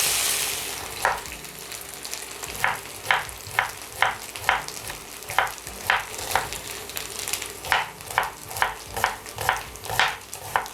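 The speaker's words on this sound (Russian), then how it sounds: "А пока картошка жарится" Potatoes frying in a pan give a steady soft sizzle, while sharp rhythmic knocks repeat above it about twice a second, close and fairly loud, with no talking.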